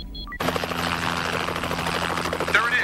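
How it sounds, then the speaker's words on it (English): A helicopter in a 1996 action film, its rotor chop and turbine roar cutting in abruptly after a brief electronic beep and then holding loud and steady, close by, with no talk over it. "That's a chopper."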